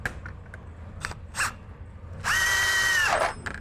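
A power wrench drives a rivnut bolt into a vehicle body while a bumper is fitted, a few short clicks and taps leading to one sustained whirring burst under a second long, close and loud, then brief rattles.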